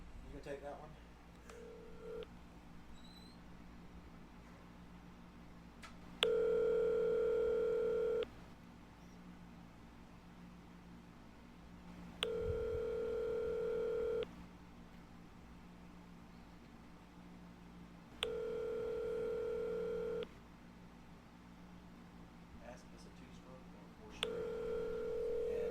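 An outgoing phone call to a returned number: a steady ringing tone sounds in long pulses roughly every six seconds, clear and fairly loud, with faint talk between rings.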